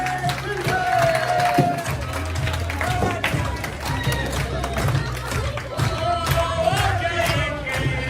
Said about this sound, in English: the crowd singing Keegan's song